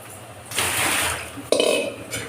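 A bowl being cleaned at a home kitchen sink, with dishes clinking and water running in two short bursts, close and fairly loud.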